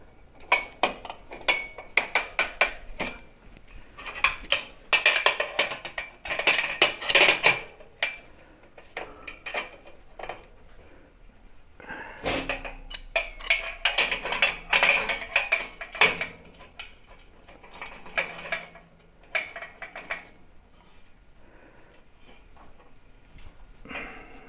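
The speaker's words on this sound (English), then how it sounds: "Now let's drop a couple of clamps on here just to hold it all nice and steady." Metal clamps are set in place and tightened on a tractor loader part during a welding repair, making irregular clanks, rattles and ratcheting ticks up close, in bursts with short pauses.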